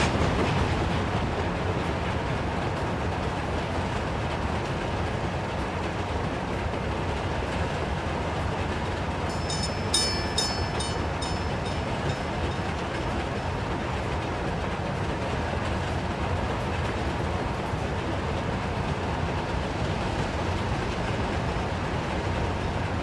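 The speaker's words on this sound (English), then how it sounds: "The new trains are pretty loud." Trains run on the rail network in Workers and Resources, a loud, continuous rumbling roll with clickety-clack wheel noise throughout, and a brief high screech near the middle. No one speaks.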